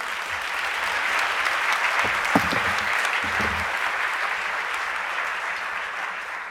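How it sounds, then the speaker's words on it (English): Warm, sustained applause from an audience at an award ceremony for a presenter, a dense even wash of clapping that holds steady with a few low voices briefly underneath, then slowly eases. "Let's give her a warm round of applause."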